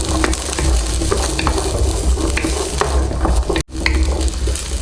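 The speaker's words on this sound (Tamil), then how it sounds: "நல்லா வணக்கி எடுத்துக்கோங்க." Garlic and ginger sautéing in a pan for Chettinad chicken gravy: a loud, steady sizzle with stirring scrapes, close by, dropping out briefly for a moment, with no talk.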